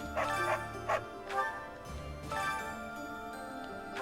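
In the video game Fire Emblem: Three Houses, a dog gives a few short, moderate barks over faint game music.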